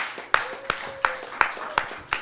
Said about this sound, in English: that's right, clap